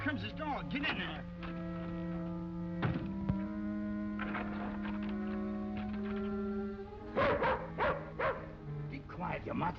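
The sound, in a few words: dog barking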